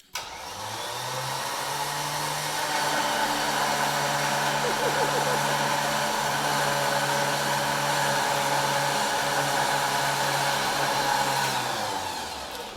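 A Badland Apex 12,000 lb winch pulls under load, its electric motor giving a steady, close droning whine that holds evenly for about twelve seconds before winding down.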